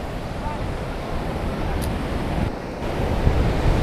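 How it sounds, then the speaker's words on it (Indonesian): Waves break on a beach on Java's south coast, a loud steady roar of surf with wind noise, and a voice is faintly heard at one point. "Ini di pantai selatan Jawa."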